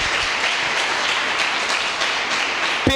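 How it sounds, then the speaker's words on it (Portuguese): A church congregation applauds during a sermon, a dense, even wash of clapping that holds steady throughout, with a brief tonal sound near the end. "Você pode aplaudir o Senhor por isso?"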